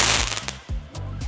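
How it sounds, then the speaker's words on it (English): New Year's Eve fireworks and firecrackers in Heidelberg Kirchheim, Germany, crackle in loud, rapid bursts, several sharp bangs and rattling volleys one after another. "So that's the deal with fireworks on New Year's Eve."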